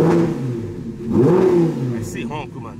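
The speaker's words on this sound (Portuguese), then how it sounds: "vou dar uma última aceleradinha aqui, né?" An Audi R8 engine revs hard close by, climbing in pitch and dropping back, then settling into a rough idle as a few brief sounds follow near the end.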